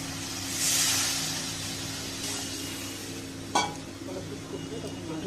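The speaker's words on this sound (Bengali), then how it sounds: "এবার আমি জল দিয়ে দেবো" Water poured into a pan of frying tilapia curry masala with green chili, a bright hissing sizzle swelling early and then settling into a steady simmering fizz, with a sharp clink of utensil partway through.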